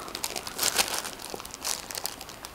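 Paper sheets and plastic pockets of a ring binder crinkle and rustle as it is handled, a few quick bursts of crumpling close by with no talk.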